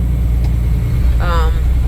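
Steady low rumble of three-lane highway traffic, continuous and moderately loud, with a brief tonal whine rising near the end.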